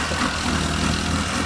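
Small engine of a kids' mini buggy cart running on sand dunes, a loud, steady, buzzing drone close by with no voices.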